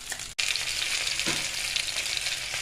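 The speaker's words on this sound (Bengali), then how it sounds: "এগুলো ডিপ ফ্রাই হয়ে গেছে" Paneer satay deep frying in hot oil, a dense continuous bubbling sizzle, close and fairly loud, with a brief cut near the start and one soft clink.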